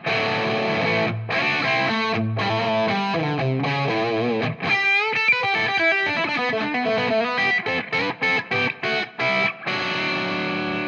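Electric guitar played through a Tonex amp capture with a custom cabinet IR and a touch of reverb, distorted chords and then choppy staccato riffing, loud and upfront with no talking.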